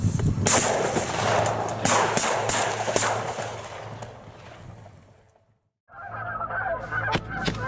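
Canada geese honk loudly in repeated calls during a hunt, mixed with sharp gunshot bursts, then a short silence before more honking resumes close by.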